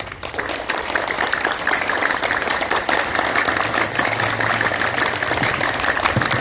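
A group claps hard and steadily during a clap therapy session at a yoga day event, in a dense, continuous wash of hand claps that holds at an even, loud level throughout.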